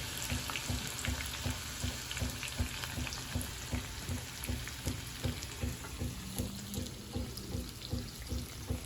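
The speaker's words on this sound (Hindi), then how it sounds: "तो अभी हम प्याज को कर देंगे अच्छी तरह से ब्राउन।" Onions frying in oil in a pan until brown, giving a continuous crackling sizzle up close, with a faint rhythmic stirring pulse beneath it and no talking.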